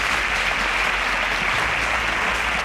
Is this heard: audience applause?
yes